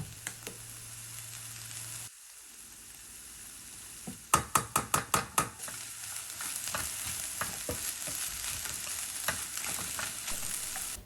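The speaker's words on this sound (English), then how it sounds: "Now add hoisin sauce and nut butter of choice and cook," Vegetables with mushrooms, grated carrots, hoisin sauce and nut butter sizzle steadily in a single pan, with a run of quick spatula knocks against the pan midway and continued stirring scrapes over the frying hiss.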